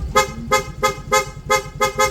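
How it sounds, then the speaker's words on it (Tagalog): A Yamaha Fazzio scooter's PIAA horn sounds in six quick, evenly spaced bursts on its rapid setting, loud and near, a rapid rhythmic toot pattern. "Magpapalit siya, PIA horn."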